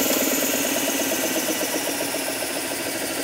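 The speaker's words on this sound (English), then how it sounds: "Belt sander simply runs downward like this when the motor is turned on." A belt sander's motor runs steadily with a constant mechanical whir and hum, close and loud, unchanging for the whole stretch with no voices.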